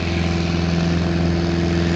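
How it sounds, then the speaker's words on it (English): A propeller airplane taking off, its engine giving a loud, steady droning hum with a strong even tone and a fast pulsing beat, unbroken and close throughout. "So cue the plane here for a minute. They're going to go up in the air"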